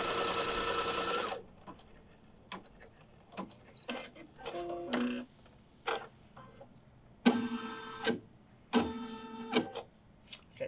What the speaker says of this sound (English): First thing it's going to do is it's going to do a placement stitch.